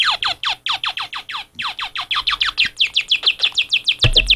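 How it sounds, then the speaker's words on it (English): A handheld sound gizmo plays a bird-chirp effect with its speed and pitch turned way up. Rapid, evenly spaced high chirps repeat continuously, about five per second, loud and close, with a brief low thump near the end. "Oh, it's a little birdie."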